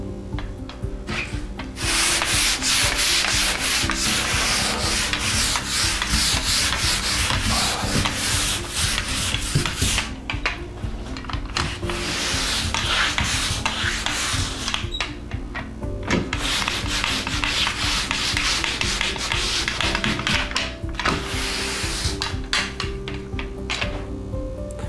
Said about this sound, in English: We'll be sanding this coat with 100 grit sandpaper